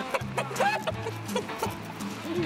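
Clucking chicken sound effect, a series of short, nasal clucks close up in a busy mix, partly under voices talking.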